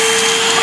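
A vacuum cleaner runs at full power with a loud, steady broadband roar and a constant motor whine, alone and close.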